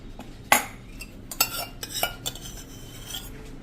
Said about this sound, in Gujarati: 2 ચમચી જેવો આપણે મેંદો નાખી દેશું, અને એમાં આપણે થોડુંક ઘીનું મોણ નાખી અને એક પેસ્ટ તૈયાર કરી લેશું